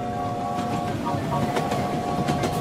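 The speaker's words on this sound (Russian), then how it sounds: "А вот и поезд с вагонами." A train rumbles past steadily with faint rhythmic clicking of wheels, a low continuous roar with a thin tonal hum on top.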